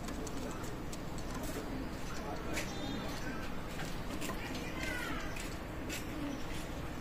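Dabala pigeons coo softly over steady background noise, with a few brief higher calls scattered through, presented as a Pakistani Teddy-type pigeon sale pair.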